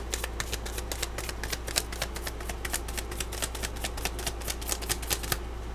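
Rapid, steady riffling of tarot or oracle cards being shuffled, a dense rattling flutter that runs continuously, close and fairly loud, with no voices.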